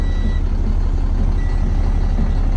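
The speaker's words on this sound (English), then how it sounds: "The beeping's because the air's not all the way there yet." Intermittent electronic warning beeps from a ramp truck still building air pressure, sounding in short tones over a steady loud diesel engine idle.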